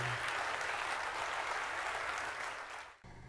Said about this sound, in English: So let's give Chris and everyone who helped to create the development package to keep this investment here in the county a big round of applause.